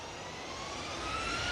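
Steady jet engine hum from an Air Transat Airbus A330 at Manchester Airport, a faint, continuous whine slowly growing louder.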